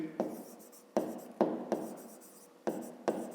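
Pen strokes scratch on paper as a fifth-grade maths solution is written out, a close series of short scratchy bursts with brief gaps between them.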